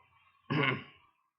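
A single harsh cough with a throaty clearing sound, close and fairly loud, lasting about half a second before quiet.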